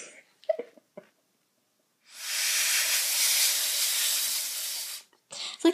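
An aerosol spray gives one steady, close hiss lasting about three seconds. Brief scattered noises and breaths come just before it starts, and more follow after it stops.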